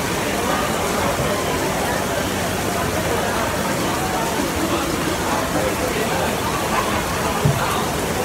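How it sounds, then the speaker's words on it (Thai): Heavy rain pours steadily during an outdoor dinner on Jalan Alor in Kuala Lumpur, a dense, continuous hiss of drops on surfaces with diners chatting faintly beneath it. "ฝนตกหนักครับจ้ะมันหน้าฝนเนาะตกแล้วก็หยุดตกแล้วก็หยุด"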